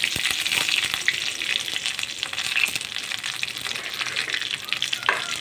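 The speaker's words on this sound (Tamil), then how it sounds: "கருவேப்பிலை போட்டுட்டு நல்லா வணங்கினோடனே" Curry leaves sauté in hot oil with a loud, continuous crackling sizzle and spattering pops, up close, with occasional stirring scrapes.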